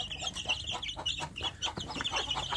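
A free-range village hen clucks among her chicks, a close run of rapid, chattering clucks and soft peeps repeating in bursts.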